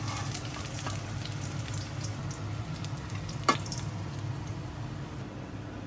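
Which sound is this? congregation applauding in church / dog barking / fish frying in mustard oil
fish frying in mustard oil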